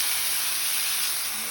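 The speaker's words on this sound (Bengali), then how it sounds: "তেলটা গরম হয়ে আসলে আমি একে একে সব চিকেনের পিসগুলো একটা" Chicken pieces sizzle in hot oil on a grill pan, giving a steady, loud, bright hiss that holds evenly throughout with no voices.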